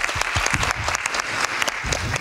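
A hall full of delegates at a Finnish association congress applauds steadily, dense sustained clapping with no gaps throughout.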